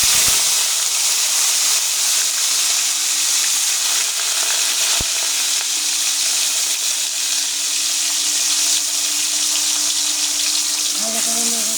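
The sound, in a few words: onion and garlic frying in hot oil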